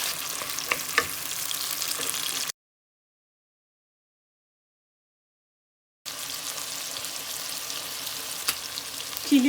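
Onions and tomatoes fry in a pan with a steady broadband sizzle that runs for a couple of seconds, stops, then resumes for several more seconds, with occasional small stirring clicks.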